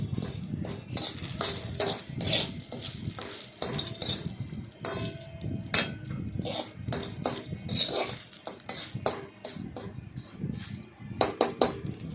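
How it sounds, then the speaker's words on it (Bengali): Suji dahi bora fry in hot oil, crackling and sizzling up close while a utensil repeatedly scrapes and clinks against the pan as the pieces are turned. "এই জন্য এদিক ওদিক করে ভেজে নিলাম"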